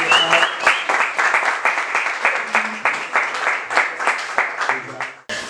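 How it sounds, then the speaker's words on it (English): Clapping and cheering from attendees at a business networking event, close and lively with uneven bursts, mixed with overlapping voices throughout. "So, Curtis Squad, can everybody get a round of applause for Curtis Squad?"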